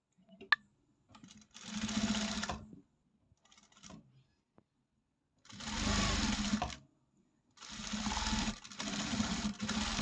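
A sewing machine stitches cloth for a knot tassel in three bursts of steady whirring motor and needle clatter. Quiet pauses separate the bursts, and a small click comes at the start.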